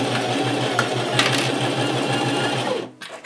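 Sewing machine stitching a thick linen tote bag with a lengthened stitch, running steadily and rhythmically up close for nearly three seconds before stopping, followed by a few light handling sounds.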